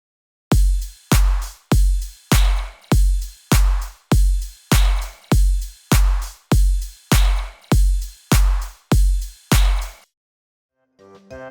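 Midtempo electronic drum beat with a shimmering ride cymbal layered onto heavy kick and clap hits, a loud steady pattern of repeated strikes that cuts off near the end, followed by a brief faint blip.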